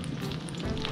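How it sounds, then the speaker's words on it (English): Food fries in a pan with a faint, steady crackling sizzle, quiet and brief, with no voices. "The frying is done."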